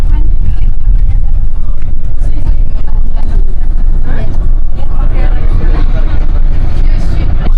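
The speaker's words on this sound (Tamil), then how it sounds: "ஆப்போசிட்டில் பார்த்தீங்கன்னா அவ்வளோ டிராஃபிக் இருக்குது" Road traffic rumbles through a central part of Ajman, UAE, a loud, continuous wash of passing vehicles heard up close, with someone talking over it.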